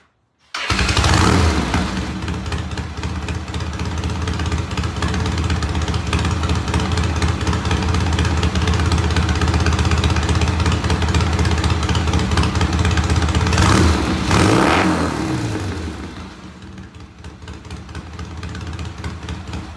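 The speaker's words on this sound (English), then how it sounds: "I'll show you how an Alton electric starter works." A motorcycle fitted with an Alton electric starter cranks and fires, then settles into a steady, loud idle with a few revs before the engine shuts down near the end, leaving quieter background sound.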